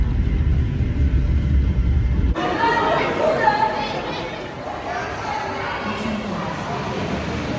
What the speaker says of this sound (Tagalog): ingay ng mga kasama ko sa train